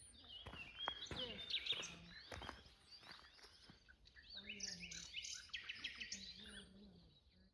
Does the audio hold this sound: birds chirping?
yes